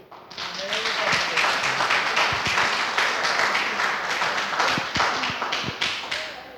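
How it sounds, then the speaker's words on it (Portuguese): Applause from a church congregation at a Sunday Bible school conference, dense steady clapping sustained throughout with some louder individual claps and a few voices under it. "Uma salva de palmas,"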